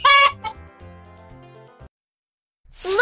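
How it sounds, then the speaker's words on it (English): A cartoon chicken in a Dora the Explorer ballet adventure gives a short series of clucks, with a sung, tonal phrase trailing off into brief silence before another bright call rises at the end. "Make a sound like a chicken. A chicken says, cluck,"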